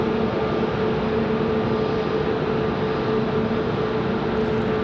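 An American Airlines airliner departs runway 5 right at Raleigh-Durham International in calm air, giving a steady, distant jet roar that holds even throughout with no voices.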